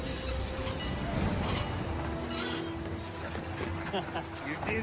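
Train wheels squealing as a train is stopped during a holdup, thin high metallic screeches over a dense rumble, with voices talking underneath.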